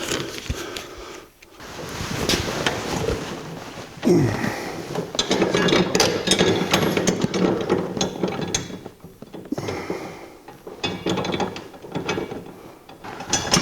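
A ratchet clicks rapidly in bursts while dashboard plates on a 1982 Jeep CJ7 are bolted together, close and clear, with short pauses between runs of tightening.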